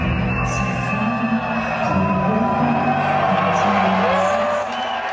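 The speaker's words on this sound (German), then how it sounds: "Jubel, aber auch gemischt mit einigen Buhrufen." Arena crowd at Eurovision 2024 during Israel's performance, a loud, sustained roar of cheering mixed with boos, with music and a voice running through the wash of the huge audience.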